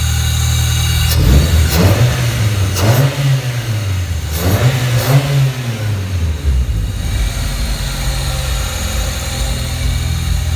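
A Toyota Celica 25th anniversary edition, with its engine bay open and a freshly fitted air filter, is revved several times in a row, rising and falling steadily and loudly up close with no one talking.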